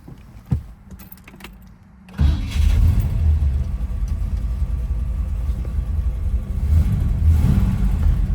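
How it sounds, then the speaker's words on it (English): A 1963 Chevrolet Corvette's 327 V8, 340 hp with solid lifters, turns over and catches, settling into a deep, rumbling idle with a throaty exhaust burble that swells slightly near the end. "Really nice sounding exhaust. This is the 340 horse solid lifter engine."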